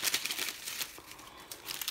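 A small plastic packet holding a pin, from a cross-stitch embroidery kit, crinkles close to the microphone in quick, irregular bursts of crisp rustling, quiet and alone.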